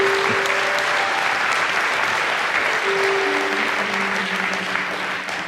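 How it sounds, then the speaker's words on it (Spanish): A church congregation applauding, a sustained wash of many hands clapping together that stays full and even before easing slightly at the end, with a faint voice underneath. "Un aplauso al Señor."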